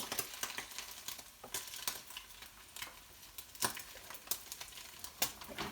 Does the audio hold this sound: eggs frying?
yes